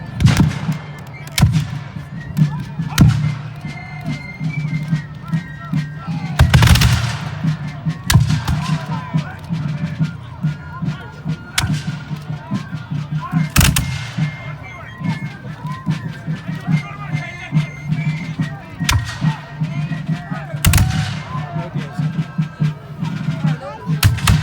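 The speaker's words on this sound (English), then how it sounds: "So the British gun is going to be firing." A British cannon at a War of 1812 battle reenactment at Stoney Creek fires sharp, booming blasts at irregular intervals, loud and outdoors, mixed with crowd chatter and people talking nearby.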